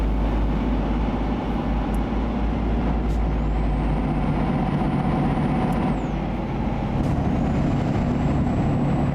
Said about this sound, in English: I noticed that this truck's engine is not powerful